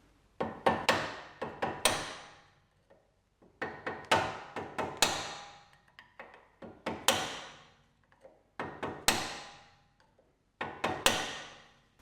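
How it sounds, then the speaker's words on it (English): Rubber mallet knocking a screwdriver against a front brake caliper on a 2008-2020 Dodge Grand Caravan, in four separate bursts of several sharp, close taps each, with short quiet gaps between. "I'm just going to give it a bit of a tap with the rubber mallet"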